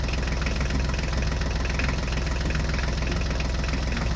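An HMT tractor engine runs with a constant, close, rumbling idle and a fine knocking pulse, holding an even level throughout with no voices.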